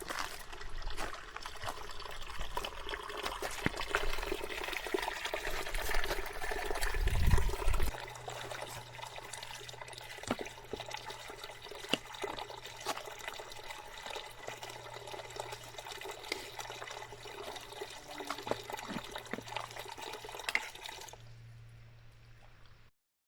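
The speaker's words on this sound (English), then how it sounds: "Fill up my water." Water running and trickling into a bottle at a trail water source on the Appalachian Trail, a steady splashing stream with a brief louder gush before settling into a continuous pour that stops near the end.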